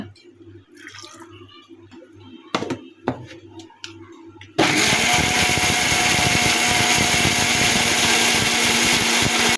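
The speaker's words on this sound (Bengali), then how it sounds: "এই তো আমার আদা ব্লান্ডার করা হয়ে গেছে" An electric blender grinding ginger kicks in abruptly partway through, a loud steady whirring roar after quieter kitchen clatter and clinks.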